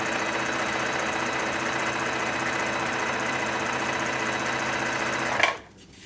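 A Bernette b05 sewing machine runs a stretch stitch in a continuous, even mechanical whir that stops abruptly near the end.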